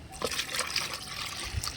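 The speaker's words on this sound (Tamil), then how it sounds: "இதில் வந்து ஒரு ரெண்டு லிட்டர் தண்ணி ஊற்றி வைக்கணும்" Water splashes and trickles into a mixer jar in a short, close pour, with gurgling and dripping sounds.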